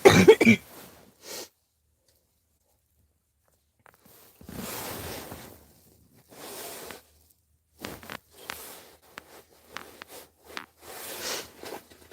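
A few scattered coughs and throat-clearing sounds break up long stretches of near silence, close to the microphone.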